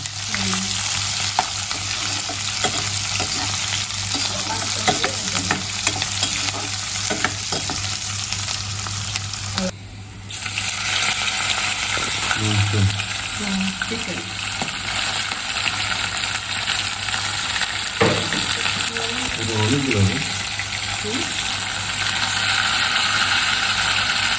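Onions cut into large pieces fry and get stirred in a pan with ginger, a steady loud sizzle running throughout with scraping stirs, a brief dip near the middle, and no talking.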